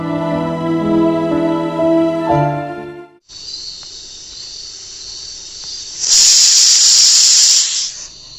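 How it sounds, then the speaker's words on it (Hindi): A kitchen pressure cooker lets out a steady hissing steam whistle after a few seconds of music. Near the end the hiss swells into a loud, close, rushing blast that lasts about two seconds. "अभी सीटी बज रही थी कुकर में"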